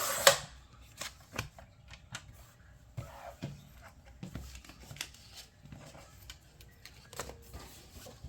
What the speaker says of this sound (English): I can always cut the end off, the bottom off with some scissors